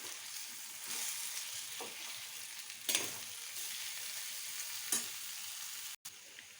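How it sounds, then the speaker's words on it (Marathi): Potato bhaji with salt is stirred in a pan, giving a continuous close sizzle broken by a few sharp scraping strokes of the spoon and a brief cut near the end. "याच्यामध्ये टाकू चवीनुसार मीठ थोडं आणि आता हे चांगलं मिक्स करून घ्यायचे"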